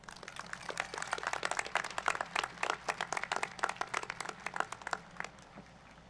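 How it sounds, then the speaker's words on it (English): Audience applause at a high school graduation ceremony, a steady mass of overlapping claps from a large crowd in a hall, moderately distant and sustained throughout without talk. "Please join me in a round of applause to welcome these special guests."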